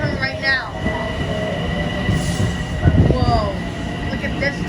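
Amtrak passenger train passing near Scarborough on the Metro-North line, a loud rumbling rush with squealing wheels and a sustained tonal whine; someone talks over it.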